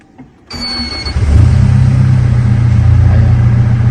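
A 2014 Mitsubishi L200 Triton 3.2 diesel engine cranks and fires after a brief electronic chime, settling into a loud, steady idle with a deep rumble.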